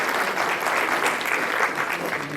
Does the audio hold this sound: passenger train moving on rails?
no